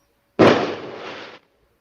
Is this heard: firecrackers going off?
yes